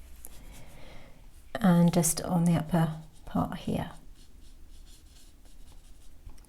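A watercolour brush moves across paper while painting an eye, giving soft, close scratchy strokes that run quietly beneath a person speaking.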